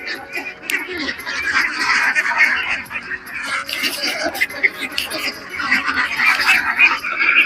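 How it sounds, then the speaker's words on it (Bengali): Domestic laying ducks on an integrated fish and duck farm quacking repeatedly in a noisy flock, nearby and continuous, with people talking over them. "ডিম পাড়া হাঁস প্রচুর ডিম পাড়ে এই যে হাঁসগুলো দেখা যাচ্ছে"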